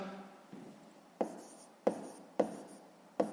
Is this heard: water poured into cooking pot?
no